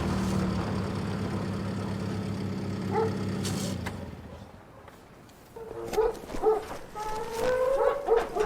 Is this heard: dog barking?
yes